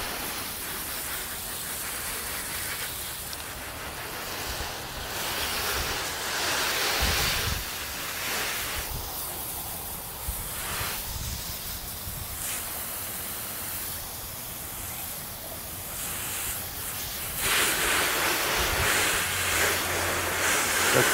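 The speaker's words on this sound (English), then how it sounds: "let's get this all rinsed off." Water sprays steadily onto a car during a rinse, a continuous broadband hiss that holds at an even level for the whole stretch and swells slightly louder toward the end.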